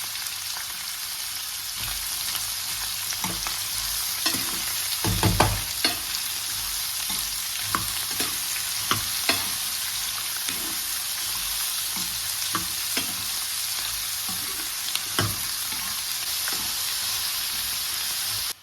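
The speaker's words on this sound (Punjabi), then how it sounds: "ਹੁਣ ਆਪਾਂ ਇਹਦੇ ਵਿੱਚ ਪਿਆਜ਼ ਪਾ ਦਾਂਗੇ ਗੈਸ ਦਾ ਫਲੇਮ ਇੱਥੇ ਕੋ ਮੀਡੀਅਮ ਰੱਖਾਂਗੇ" Onions frying in hot ghee over a medium gas flame, a steady close sizzle with scattered stirring clicks and scrapes throughout, no voices.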